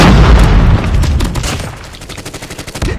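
A grenade explosion in the Call of Duty Mobile game: a loud, deep boom that decays into a rattling burst of rapid gunfire, close and dominant.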